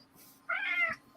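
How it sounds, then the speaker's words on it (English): A single cat lets out one short, clear meow, moderately near, against a quiet background with a faint steady hum. "Oh, I heard a cat."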